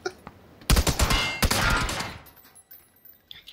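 Sniper gunfire in a video game, a loud close crack followed by a rapid burst of shots that fades into a ringing tail.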